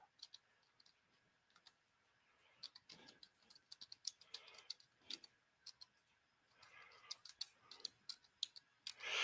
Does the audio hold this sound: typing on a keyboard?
yes